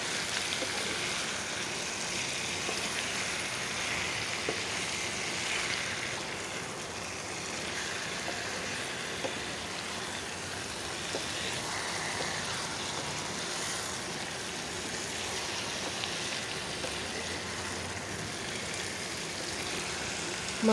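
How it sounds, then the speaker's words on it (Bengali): Meat fries with elephant foot yam in a pan, giving a continuous soft sizzle and crackle at a steady level throughout, close and even with no talk. "মাংসগুলোকে নেড়ে চেড়ে সুন্দর করে ভাজি করে নিতে হবে।"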